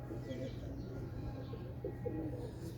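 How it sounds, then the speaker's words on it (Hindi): Close, low cooing of a champion pigeon rolls on steadily, with faint background murmur. "ये कबूतर है"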